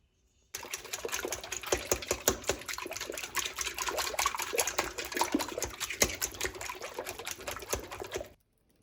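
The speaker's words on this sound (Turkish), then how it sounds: "Daha sonra bir güzel çırpalım." Liquid ingredients for börek being whisked in a bowl, with a fast, steady clatter of whisk strokes that is loud, close and continuous for about eight seconds, with no talking.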